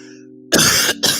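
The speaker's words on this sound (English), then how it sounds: "Y'all see, I'm still coughing." A low hum gives way to two harsh, loud coughs close to the microphone, the second one shorter.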